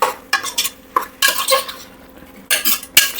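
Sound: stirring chicken biryani with turmeric, coriander and mint in pressure cooker

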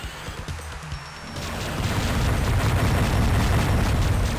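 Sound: mega missile explosion in the video game Descent

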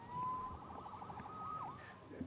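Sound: police siren in the Spider-Man video game

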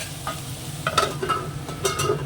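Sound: vegetables frying in a covered pan

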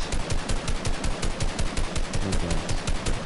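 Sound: gunfire in the video game Fortnite

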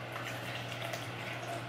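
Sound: water poured into a protein shaker

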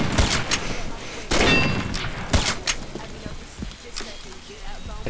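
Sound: gunfire in a shooting video game

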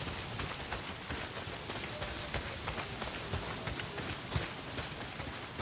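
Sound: rain falling in the video game Days Gone

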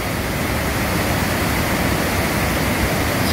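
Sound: Willow River Falls waterfall, Wisconsin

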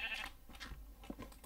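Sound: sheep bleating in the video game Minecraft

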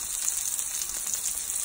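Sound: Beyond Sausage plant-based sausage frying in a pan

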